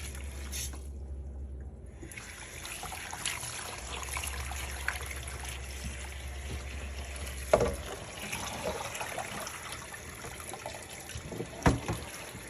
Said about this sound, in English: so now she's rinsing the yam